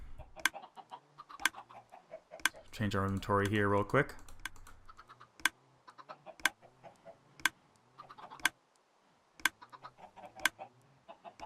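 Minecraft chickens let out a loud burst of clucking lasting about a second, surrounded by steady, crisp computer keyboard typing clicks, while someone talks briefly.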